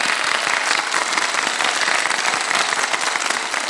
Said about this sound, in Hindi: हमारे लिए तालियां बजा दें एक दफा